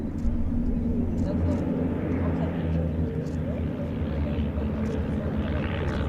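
A rare de Havilland Moth Major vintage biplane with a half Cuban manoeuvre drones steadily overhead at an air display, its engine a continuous low rumble with other aircraft noise and a commentator talking over it.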